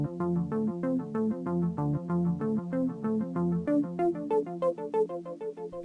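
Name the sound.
synth arpeggio in mono through a delay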